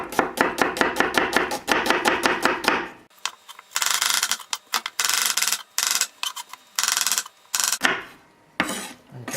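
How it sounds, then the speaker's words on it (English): Onions chopped with a knife on a board while cooking steak with pepper and mushroom sauce, heard as a fast, even run of close, crisp knife taps that gives way to scattered scraping and irregular chops. "So we chop the onions like this."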